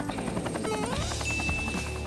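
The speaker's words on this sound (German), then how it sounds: "Was ist das? Ein Hubschrauber?" A helicopter's rotor thumps in a rapid, steady rhythm over a continuous engine whine in an animated cartoon, moderately loud and alone without talk.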